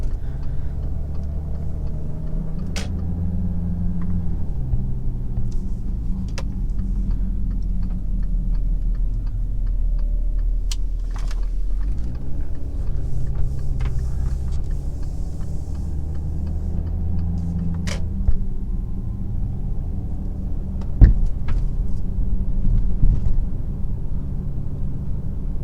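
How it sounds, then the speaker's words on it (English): Inside an Audi Q7 TDI during normal driving, a steady low engine and road rumble holds throughout, with light ticking and a few small clicks from the cabin scattered over it. "So that's pretty much the inside of the cabin"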